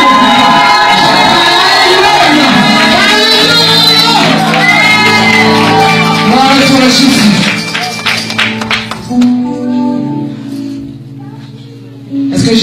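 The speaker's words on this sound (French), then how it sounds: "Est-ce que tu peux pousser des cris de victoire?" A church congregation at a French-language prayer service in Atlanta shouts cries of victory, a loud, dense mass of voices and whoops that fades toward the end.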